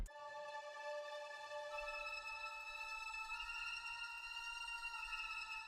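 A dark ambient music loop heard dry without effects: a quiet sustained chord of bright, stacked tones with a low rumbling bass entering partway, steady and continuous throughout.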